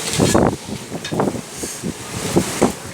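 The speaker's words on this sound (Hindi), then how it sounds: "और बहुत तेज़ हवा है, बारिश भी साथ हो रही है।" Strong gusting wind buffets the microphone in uneven rumbling bursts during rain, with a steady rushing hiss underneath and no voices.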